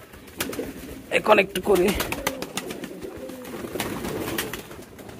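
A male pigeon coos in a few short, low throaty bursts close by, while someone talks over and between the calls.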